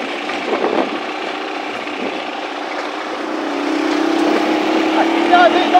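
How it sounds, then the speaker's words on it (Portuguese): A motorcycle is started before climbing a hill: a steady engine drone with mechanical rattle, rising into a louder sustained hum toward the end, close by. "Tem que dar um tranque na moto para ela pegar"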